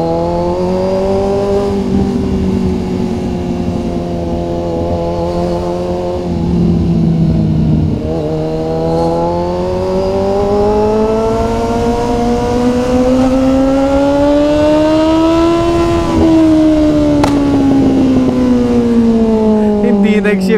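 Kawasaki ZX6R motorcycle ridden through traffic, its engine revving hard and loud close by, pitch climbing in long sweeps with sharp drops at each gear shift.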